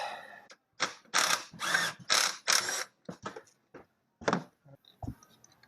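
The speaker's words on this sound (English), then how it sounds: "Grab my handy dandy 3/8 impact." A 3/8-inch impact wrench works on a GM 3.4 engine in a 2003 Montana, giving several short close bursts of rattling, hammering mechanical noise separated by brief pauses, with softer clicks and taps between.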